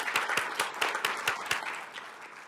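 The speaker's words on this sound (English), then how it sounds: "Let's thank them with a round of applause." A school board meeting audience gives a short round of applause, several sharp claps at first and then a dense smatter that fades over a couple of seconds.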